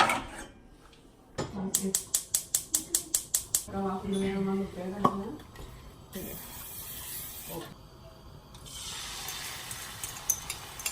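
Cooking pots and dishes clatter in a kitchen as a rapid series of metallic clicks and ratcheting knocks, then ringing clanks and scraping. A voice talks over part of it.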